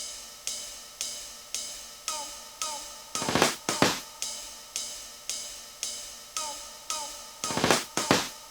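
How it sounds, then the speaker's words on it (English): An amapiano beat carries a percussive FX nyana effect: sharp decaying hits land about every half second, and two dense crackling bursts break through mid-way and near the end. "It's like an FX nyana"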